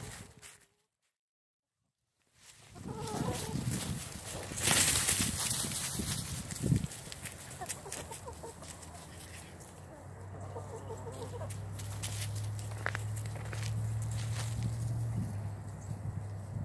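Chickens cluck and murmur in a farmyard during feeding time, a low, steady chorus of bird noise with a brief silent gap near the start and occasional louder calls, heard fairly close.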